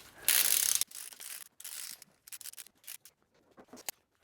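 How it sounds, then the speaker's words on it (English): Wrench ratcheting as bolts are torqued down on a Classic Mini engine being built up for boost; a loud burst of clicking opens, followed by short, close bursts of ratchet clicks and metal scraping. "Now you're going to go ahead and torque these bolts down."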